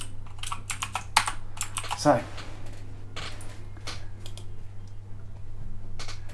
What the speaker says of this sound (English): sorry, quiet keyboard. My microphone's there, my keyboard's there.